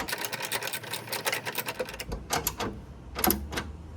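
A ratchet tightens a bracket bolt on a 2001–2007 Dodge Caravan with a 2.4L or 3.3L engine during a canister purge valve replacement, giving a rapid run of close, crisp clicks followed by a few slower separate clicks.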